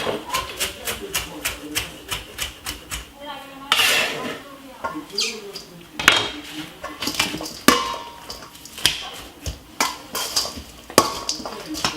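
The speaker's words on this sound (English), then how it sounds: "let's mix up everything together" Couscous and fish salad with coriander tossed in a bowl, giving a steady run of clinking, scraping utensil strikes against the dish, close and fairly loud, with some brief quieter gaps.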